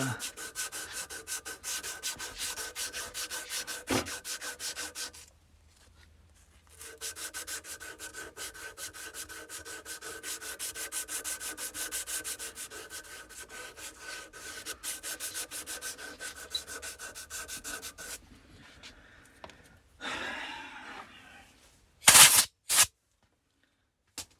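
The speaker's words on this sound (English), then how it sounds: "Got a little piece of emery cloth. Got it in my vise." Emery cloth rubbed back and forth over a 20-year-old Carrier furnace inducer fan motor part clamped in a vise: a rapid, close, rasping scrub that pauses briefly, then ends in a few sharp knocks.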